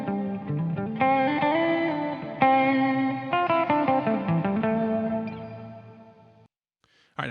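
Electric guitar run through a Space Force reverb pedal with a pitch-shift effect, sustained notes and chords ringing with shimmering pitched layers and long reverb tails, loud, then fading to near silence before a brief final strum.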